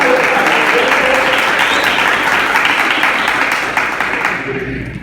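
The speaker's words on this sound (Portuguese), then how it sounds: "Uma salva de palmas." Loud, dense applause from an audience at a swimming podcast event, a continuous roar of many hands clapping that holds steady, then thins and fades toward the end.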